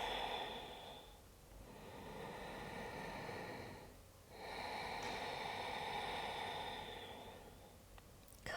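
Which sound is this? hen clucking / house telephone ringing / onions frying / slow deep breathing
slow deep breathing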